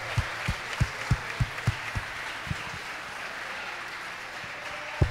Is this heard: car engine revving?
no